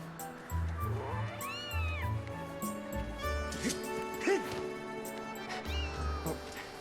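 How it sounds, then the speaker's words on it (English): A cat in The Legend of Zelda: Skyward Sword meows repeatedly in drawn-out, rising and falling cries, close and clear over soft background music, with a few brief caterwauling calls. "Oh. Cat."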